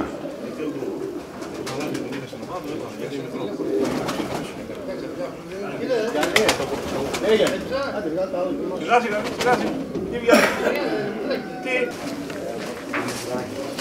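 Pigeons at a pigeon festival in Serres, mostly Tsaparia and Karaberia breeds, coo and flutter in a steady background murmur while people talk nearby throughout.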